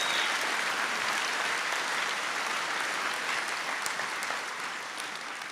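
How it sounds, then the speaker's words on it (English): Sustained applause from a large crowd at a high school graduation fills the space, steady and dense, tapering slightly toward the end. "One more round of applause for our amazing,"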